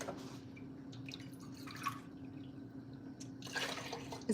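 Water pours into a pot holding pumpkin, giving a quiet, steady trickle and drip with a faint low hum underneath and a few brighter splashes toward the end.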